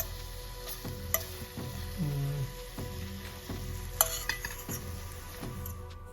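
Food sizzles steadily in a pan with too much oil, a dense, continuous crackle close by, broken by a few sharp clinks and scrapes of a utensil stirring against the pan.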